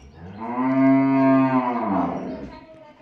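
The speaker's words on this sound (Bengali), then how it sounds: "আর এটি একটি ফিজিয়ান জাতের গরু" A Friesian cow bought at the Dhaper Haat in Bogura lets out one long, loud, nearby moo that swells and then fades over a few seconds.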